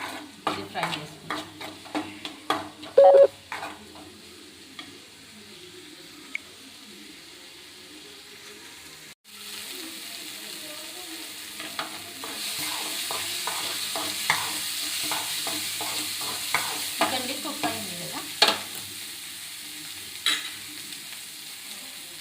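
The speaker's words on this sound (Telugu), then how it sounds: "ఇది బ్రౌన్ కలర్ వచ్చేంత వరకు మనం ఇది ఫ్రై చేసుకుంటాం." Eggs frying in a pan for an egg fry, with repeated scraping and stirring strokes over a soft sizzle that grows louder and denser in the second half.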